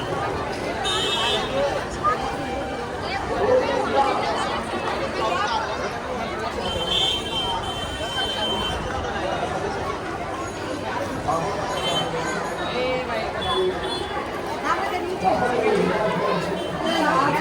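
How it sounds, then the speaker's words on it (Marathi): Crowds murmur and chatter around Balumama temple at a busy fair in Adamapur, a steady babble of many voices mixed with footsteps and stall bustle, continuous and fairly close throughout. "खूपच गर्दी."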